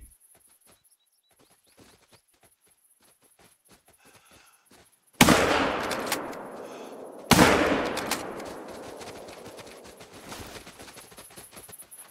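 Two loud, close hunting rifle shots fired at a buck in theHunter: Call of the Wild, a quiet outdoor stretch broken by the first sharp crack and a second about two seconds later, each trailing into a long rolling echo.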